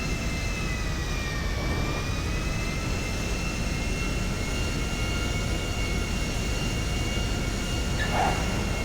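A fixed-wing airplane on final approach with landing gear lowered in a flight simulator, landing on runway 33 right against strong wind; a steady, loud jet engine roar and rushing air fill the scene throughout, with no voices.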